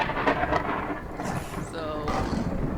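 Thunder from a lightning strike in the dinosaur survival game Beasts of Bermuda rumbles loudly and broadly across the stormy scene, mixed with rain and a game voice over the top.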